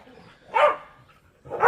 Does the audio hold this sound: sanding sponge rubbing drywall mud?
no